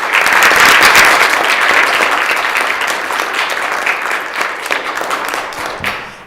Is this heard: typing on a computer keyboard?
no